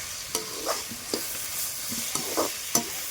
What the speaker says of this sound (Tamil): மூணுத்தையும் போட்டு நல்லா வதக்கிக்கோங்க